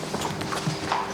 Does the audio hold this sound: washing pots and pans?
no